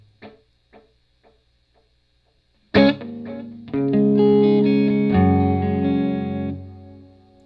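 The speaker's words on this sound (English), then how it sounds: "that is going to be the transistor tape, which I think is like an echoplex" Electric guitar played through a transistor tape echo effect on a Helix unit, Echoplex-style: a few faint muted chucks, then a loud strummed chord ringing and sustaining with warm repeats, followed by a second chord that trails off.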